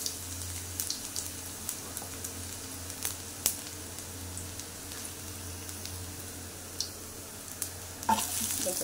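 Garlic fries in hot oil with a steady fine sizzle and crackle, while a spoon stirs it now and then, giving light scrapes and taps against the pan; close and continuous.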